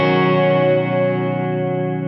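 Electric guitar run through a TC Electronic Hall of Fame reverb pedal, a sustained chord ringing steadily for about two seconds with a subtle reverb tail and slight modulated shimmer, close and fairly loud, no talking.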